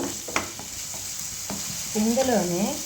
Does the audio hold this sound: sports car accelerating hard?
no